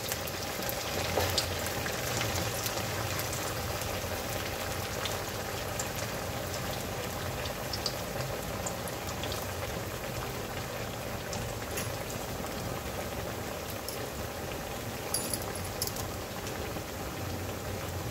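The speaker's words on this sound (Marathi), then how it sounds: "तेलामध्ये जेवढे बसेल तेवढे टाकून घ्यायचे आहे आपल्याला." Sabudana vada deep frying in hot oil, giving a steady, dense bubbling sizzle that carries evenly and moderately loud throughout, with no talking.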